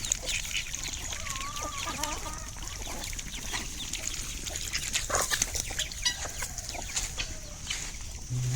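Silkie chickens on a farm, with geese nearby, cluck steadily at close range amid scattered bird calls and farmyard noise, with no talking.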